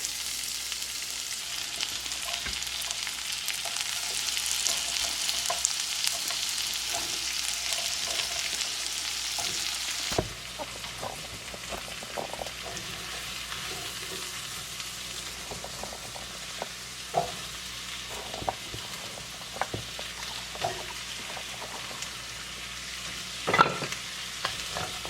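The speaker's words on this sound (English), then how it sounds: "I'm just gonna throw some good old butter in here and get it working" Butter melting in a pan on low heat gives a steady soft sizzle and frying hiss, with occasional stirring scrapes and small clinks, close and continuous with no speech.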